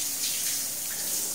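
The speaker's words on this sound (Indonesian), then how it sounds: "pertama-tama papan siripnya kita siram dulu dengan menggunakan air sampai basah seperti ini" Water is poured over a swiftlet nest fin board to wet it before cleaning, making a steady close splashing rush with no voices.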